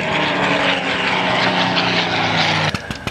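A Spitfire Mk IX's piston aircraft engine roars loud and close at the 2009 Omaka airshow, a sustained propeller drone that cuts off abruptly near the end, followed by a few sharp knocks.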